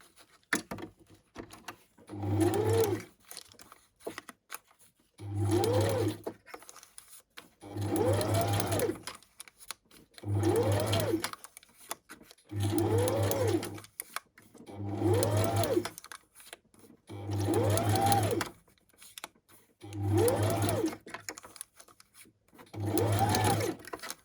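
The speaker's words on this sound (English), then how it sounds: "Okay, so I would have to take this to the sewing machine." A sewing machine stitches through coffee-dyed shopping receipts in about eight regular bursts of a few seconds each, separated by short pauses, close and moderately loud with no talking.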